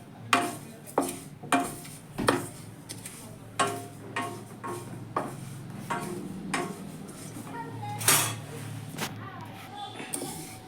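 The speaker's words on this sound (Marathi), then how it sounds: "आपण 2 वाटी तिळाला कढईमध्ये भाजून घेऊया." Two cups of sesame seeds dry-roasting in a kadai, with a steady series of sharp scraping and clinking strokes of a spatula against the metal pan, repeated roughly every half second, close and moderately loud.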